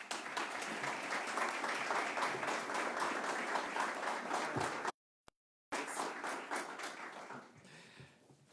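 An audience at a workforce development center opening warmly applauds to welcome Monroe County Executive Adam Bello: steady, dense clapping from a room full of people, briefly cut off, then resuming and fading out.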